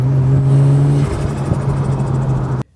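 A turbocharged Nissan Skyline R34 engine revs loud and close, a steady droning note holding for about a second before rising and surging through further revs, then cutting off abruptly near the end.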